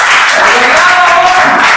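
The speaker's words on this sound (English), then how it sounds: "Round of applause for Lola." A game show audience breaks into loud, dense applause for Lola, the umpire, with continuous clapping and crowd noise filling the short stretch and faint voices mixed in.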